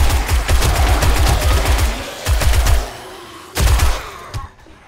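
Shotguns fire in the 7 Days to Die video game during a horde night, with rapid bursts of overlapping blasts in quick succession, then a pause and a few more clustered volleys. The shots are loud and close before tailing off.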